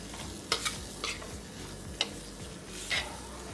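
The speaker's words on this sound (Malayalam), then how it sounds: "ഒന്ന് വഴറ്റി കൊടുക്കാം. കുറച്ച് സമയം എടുക്കും ഇത്." Ingredients sautéing in a pan for egg and potato gravy: a soft steady sizzle with a few distinct spoon or spatula stirring scrapes at irregular intervals, fairly quiet and close.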